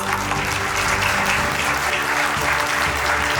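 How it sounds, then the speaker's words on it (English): Audience applause fills a school scholar badge ceremony at Aster Public School in Noida Extension, a steady, dense clapping from a large crowd lasting throughout without pause. "give yourselves a big round of applause"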